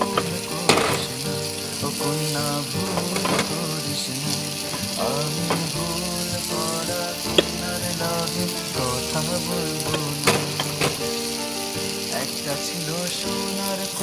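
Vegetables frying lightly in a pan for a cheese and egg dish, a close, steady sizzle with crackling pops and scraping stirs that carries evenly throughout, no voices.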